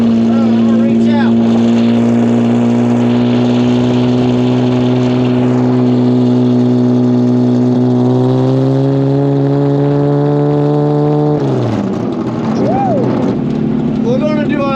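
A motorboat engine being prepared for the PFI SpeedFest runs loud and close on a test drive, holding a steady drone before rising in pitch as it revs and accelerates, with a brief dip and shift near the end.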